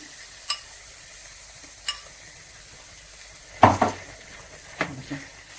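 Egg mixture for a crab and prawn omelette poured into a hot pan, with a few light utensil clicks followed by a sudden sizzling burst and a brief second flare, fairly quiet overall.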